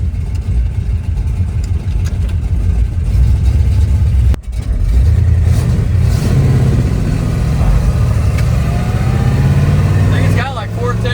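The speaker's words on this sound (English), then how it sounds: "Just hit the key, fires right up." Barn-find 1963 Corvette engine running loud and close, a steady rumbling idle that rises into revs near the end, with a brief break partway through.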